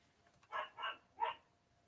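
A dog barks three times, moderately close, two quick barks followed by a third after a short gap, with a faint background hiss and no talking.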